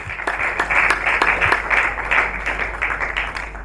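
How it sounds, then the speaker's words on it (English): Audience applause at an awards ceremony and film premiere, a dense, even wash of clapping that holds steady throughout without voices on top. "A round of applause for her,"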